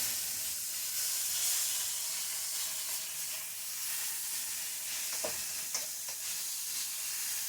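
Chicken frying in a pan, giving a steady, close hiss of sizzling with a few faint utensil clicks near the end and no voices.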